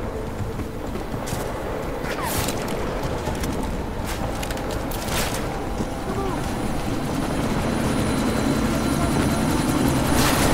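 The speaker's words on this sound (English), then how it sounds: "That chopper's about to take off!" Helicopter taking off in the game Deus Ex: Mankind Divided, a loud steady rotor roar and whine that grows slightly louder toward the end, with a few sharp bursts mixed in.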